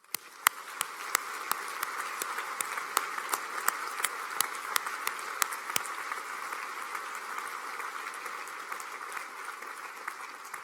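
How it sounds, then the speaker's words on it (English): A crowd at a college graduation ceremony applauds steadily, a moderately loud, sustained patter of many hands with sharper individual claps standing out, no voices over it. "give yourselves another round of applause"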